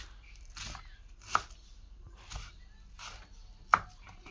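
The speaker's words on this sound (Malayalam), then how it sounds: "സവാള ഞാൻ കുനുകുന അരിഞ്ഞുകൊണ്ടിരിക്കുകയാണ്." A knife finely chopping an onion on a cutting board, heard as a few distinct, fairly close taps and thuds at irregular intervals, two of them sharper and louder than the rest, with no talking.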